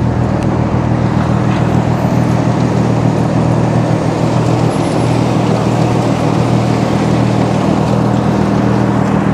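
A Valtra N174 tractor harvesting snow gives a loud, steady low engine drone with broadband machinery rumble that holds constant throughout, with no speech.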